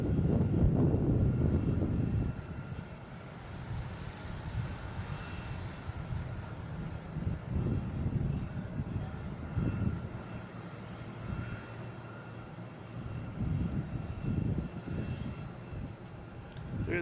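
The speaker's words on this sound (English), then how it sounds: "So there's Aer Lingus and A321neo coming in from Shannon." An Aer Lingus A321neo jet airliner arriving at Boston Logan International Airport, a broad engine roar rising and falling with wind rumble, moderately distant and without talk.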